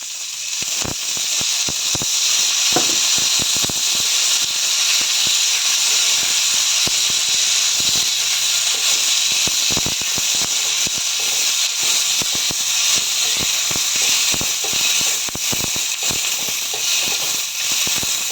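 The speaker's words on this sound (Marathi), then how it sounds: "तेल टाकून आपण ह्या मिरच्या चांगल्या प्रकारे भाजून घेऊ" Green chillies roast in hot oil in a pan, giving a steady loud hiss with frequent sharp crackles and pops throughout.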